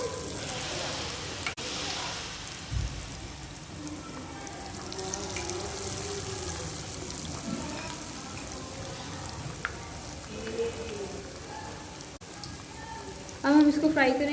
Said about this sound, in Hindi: अब हम इसके अंदर अपने कटलेट्स डाल रहे हैं।